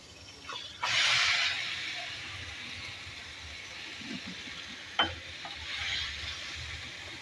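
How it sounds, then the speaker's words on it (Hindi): Chicken fries in a tablespoon of butter for butter chicken, a close sizzle that flares loudly when stirred around the first second, then settles into a quieter crackle with another sharp stir midway. "चिकन को फ्राई करेंगे।"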